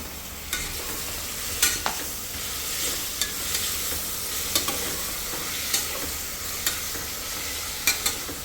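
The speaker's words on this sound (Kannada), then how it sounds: "ಒಂದೇ ಸತಿ ಹಾಕಿ ಚೆನ್ನಾಗಿ ಫ್ರೈ ಮಾಡ್ಕೊಳ್ಳೋಣ." Tomato, green chilli, mint and coriander fry together in a pan with a steady close sizzle, broken by scattered clicks and scrapes of a spoon stirring, and no voices.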